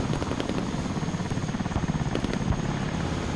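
An Osprey tiltrotor aircraft in the video game Broken Arrow flies close by, its rotors giving a loud, continuous throbbing roar that holds steady throughout with no talk.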